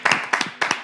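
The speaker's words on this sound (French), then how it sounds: "Est-ce qu'on peut applaudir Saïd?" A few hands clapping at a live broadcast event, three short separate bursts of claps close to the microphone, thin rather than a full crowd.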